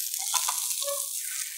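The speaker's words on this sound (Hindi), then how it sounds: "ये हो गया गरम, अभी हम डालेंगे इसमें अनियन।" Onions frying in hot oil with spices such as turmeric and red chili, a steady, close hiss and crackle of sizzling that continues without pause.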